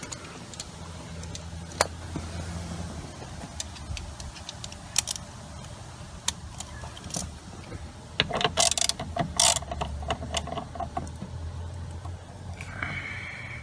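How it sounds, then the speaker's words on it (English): A ratchet loosening a T50 six-point star bolt on a 2017 Chevy Cruze driver seatbelt, with runs of rapid clicking, brief pauses and a final quick burst, close and clear. "Let me grab that ratchet here."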